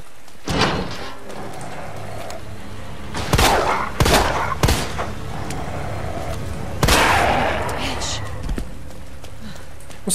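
Pistol shots in the video game Resident Evil 2 Remake, several sharp loud bangs spaced a second or more apart amid game ambience, with someone talking throughout.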